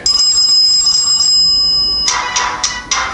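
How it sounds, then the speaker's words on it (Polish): A myPhone H-Smart rugged phone plays a loud electronic ringtone, a sustained tone followed by four sharp repeated chirps near the end, bright and close with no talking. "Myślę, że dzwonki będą takie trudne do przeoczenia."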